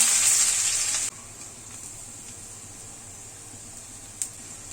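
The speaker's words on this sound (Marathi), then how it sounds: "आता फोडणीला सुरुवात करते मोहरी तळतळली की कांदा" Hot oil sizzles loudly for a second as mustard seeds, onion and garlic go into a tempering, then settles into a steady, quieter hiss and crackle with one brief clink near the end.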